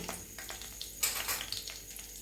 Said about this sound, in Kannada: ಹಾಕ್ಕೊಂಡು ಚೆನ್ನಾಗಿ ಫ್ರೈ ಮಾಡ್ಕೊಳ್ಳೋಣ